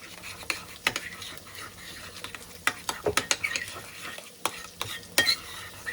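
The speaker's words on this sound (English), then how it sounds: "And mix it." Pasta carbonara being stirred in a pan, a close scraping of utensil against metal with irregular clinks and a light sizzle, no talk.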